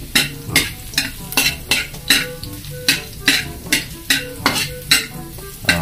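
Garlic sautés in a small amount of oil for a vegetable dish, with a steady sizzle under rhythmic spatula strokes scraping the pan about twice a second, close and clear.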